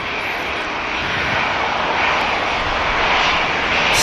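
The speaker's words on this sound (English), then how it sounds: "One more plane." A fixed-wing airliner's engines roar steadily at Manchester Airport, a loud, continuous broadband rumble that swells slightly toward the end, with no talk over it.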